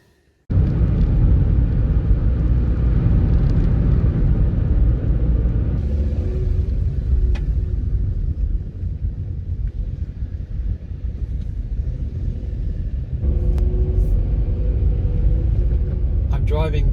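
A car driving along a road in the Yorkshire countryside toward Kettlewell, heard from inside as a continuous heavy low rumble with road and wind noise, while a voice talks over it.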